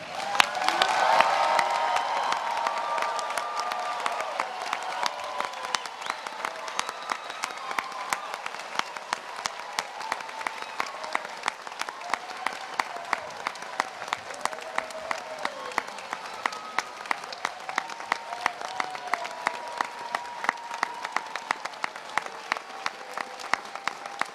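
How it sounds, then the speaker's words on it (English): A large commencement crowd of graduates and guests gives sustained applause with some cheering in a big hall, a dense wash of clapping that swells loudly at first and then holds steady for the whole stretch. "so we can give you a big roar of applause"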